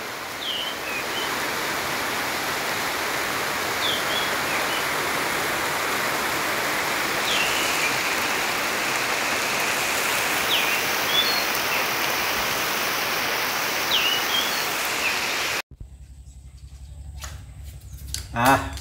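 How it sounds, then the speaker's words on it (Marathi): Light rain falls as a steady, even hiss that fills the scene, with a few faint chirps above it. The rain stops abruptly near the end, leaving a quieter background. "पावसाचं आगमन होतं आहे बघा. बारीक पाऊस पडतो."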